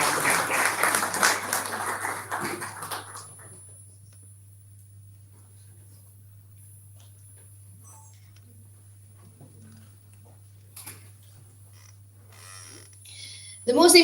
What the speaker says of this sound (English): can we please have a round of applause to the Sri Lankan Army, the Sri Lankan Navy, the Sri Lankan Air Force and the Sri Lankan Police